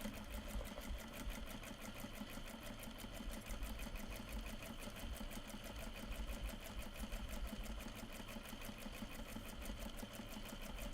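A sewing machine stitches bags made from upcycled kimono and obi fabric, running in a steady, close, continuous whir with a fast regular needle rhythm for the whole stretch and no talking.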